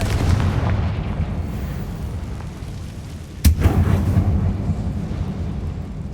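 A Confringo spell in Hogwarts Legacy on PS5 sets off one sharp, loud blast midway, cutting through a steady low ambient rumble that lingers before and after.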